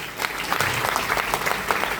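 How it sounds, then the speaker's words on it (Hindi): A crowd claps in a hall during a direct-selling motivational talk, a brief, dense burst of applause at steady loudness with no voices on top. "तो आप जो आपको व्यक्ति लेके आए उसके लिए एक बार जोरदार तालियां।"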